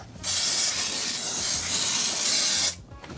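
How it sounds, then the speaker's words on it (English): A sustained hissing spray from an aerosol can of degreaser solvent, starting abruptly and holding steady for a couple of seconds before cutting off. "Just spraying this degreaser solvent on all the really greasy, gross bits"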